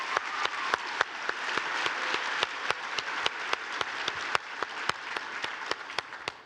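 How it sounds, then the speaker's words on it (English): An audience at the Bowerman presentation applauds Ryan and Queen Harrison, soft even clapping from a crowd in a hall with sharp individual claps standing out near the microphone, steady for several seconds. "How about a round of applause for them?"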